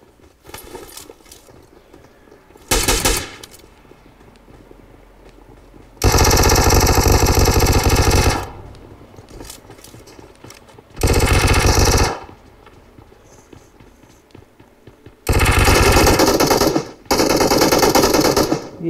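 Automatic gunfire from a PUBG Mobile match, several loud sustained bursts of rapid shots separated by quieter gaps, close and dominant with no talk over them.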